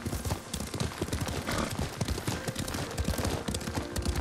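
Horse hooves clatter in a steady galloping rhythm while riding in the video game Ghost of Tsushima, loud and continuous with game ambience layered over them.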